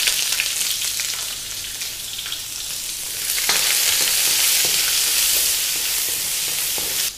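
Onions dropped into hot oil with cinnamon, cloves, cardamom, star anise, bay leaf, curry leaves and green chillies sizzle loudly and continuously, the frying swelling fuller midway, with occasional stirring scrapes and no talk.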